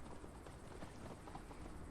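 Horse hooves clip-clop steadily as a mount is ridden in the video game Assassin's Creed Valhalla, a continuous moderate trot over faint ambient background, with no talking.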